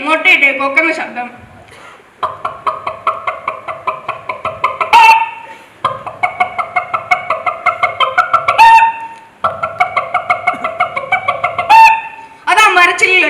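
A voice imitates a hen clucking after laying an egg, performed at a school arts festival mimicry show: rapid repeated clucks in several runs, each ending in a sharp, higher squawk.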